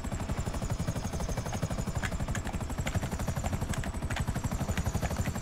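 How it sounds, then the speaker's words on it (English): A helicopter in GTA 5 Online flies close by, its rotor chopping in a fast, steady pulse over an engine whine, loud and constant for the whole stretch, with no speech. "There's a helicopter here."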